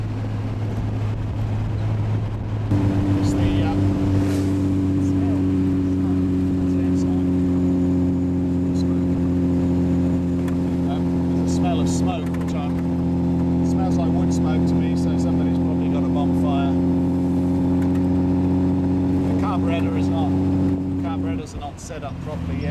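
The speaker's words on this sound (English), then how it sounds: "You can hear the engine note change a little bit there." Austin Healey 100/6 engine idling steadily with a smooth, even drone and a slight change in note partway through, close and loud throughout.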